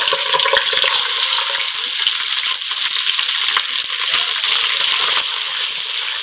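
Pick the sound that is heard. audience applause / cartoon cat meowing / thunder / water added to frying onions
water added to frying onions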